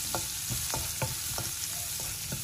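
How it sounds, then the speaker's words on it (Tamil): Finely chopped garlic, about eight to ten cloves, fries in a pan for a mushroom masala, giving a constant dense sizzle with a regular series of spoon scrapes and taps and no talk. "பூண்டை போட்டு பூண்டு வந்து நல்லா ஃப்ரை பண்ணிக்கணும்"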